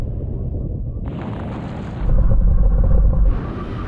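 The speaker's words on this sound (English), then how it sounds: "now we're going to do a brake test from 100 miles an hour. When we reach the line, full emergency stop." A Ferrari Roma, Bentley GT Speed and Aston Martin DBS on carbon ceramic brakes make a full emergency stop from 100 mph, with heavy wind and a deep rumble that swells loudly midway before easing off, with no talking.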